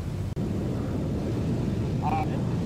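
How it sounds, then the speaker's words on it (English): Jet engines from airliners such as a Boeing 747 in Microsoft Flight Simulator X multiplayer over San Francisco, a steady broad roar filling the clip behind a voice, with one brief dropout near the start. "I hear jets in my position."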